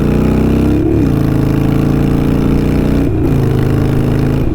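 A Harley-Davidson Iron 883 motorcycle engine breathes through Kinetic 540 Laterals exhaust, a steady loud close idle with two brief blips of the throttle.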